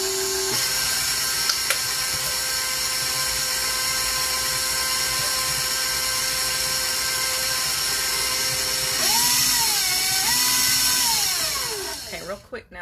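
An electric mixer whirs steadily on low for several seconds while mixing a dark chocolate cream pie filling, then shifts pitch and speed near the end before it winds down and stops.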